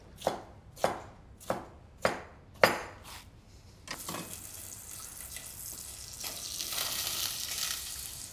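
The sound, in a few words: roughly chopping red pepper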